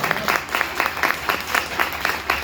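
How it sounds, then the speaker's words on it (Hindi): An audience at an open seminar in Batote claps in a rhythmic, unison pattern of about ten evenly spaced bursts, loud and close, with no talk over it. "इनके लिए जबरदस्त क्लैपिंग करता हूं।"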